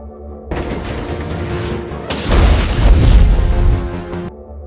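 A loud, rumbling explosion from a film surges heavily and then trails off. A steady noise bed sits under it, with no speech.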